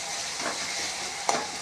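A tomato-based egg and potato curry is stirred in a pot after its lid comes off, giving a soft, faint bubbling hiss and one sharp knock of the spoon against the pot.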